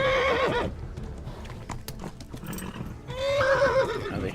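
A horse in Kingdom Come: Deliverance neighs loudly and close at the start, then hooves clatter through the middle before a second long whinny rises near the end.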